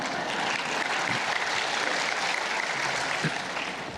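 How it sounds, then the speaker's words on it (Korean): A church congregation applauding during a sermon; a dense, steady wash of many hands clapping fills the whole stretch at an even, moderately loud level. "박수 치지 마세요."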